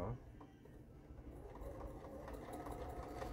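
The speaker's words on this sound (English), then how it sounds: "Now I'm going to stitch." A sewing machine runs a top stitch, a soft, low, continuous mechanical whir that steadies and grows slightly louder. It stays faint throughout.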